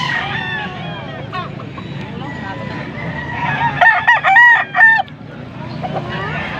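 A young gamecock stag crows in Pampanga, a clear, fairly close crow of several rising and falling notes near the middle, with men chatting and murmuring nearby before and after.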